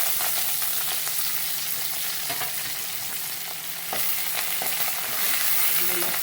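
A tadka of spices crackles and sizzles in a hot pan as fresh coriander goes in, a steady close frying hiss with light stirring scrapes and no talk.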